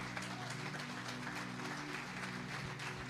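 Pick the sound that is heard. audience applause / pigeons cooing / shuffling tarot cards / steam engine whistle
audience applause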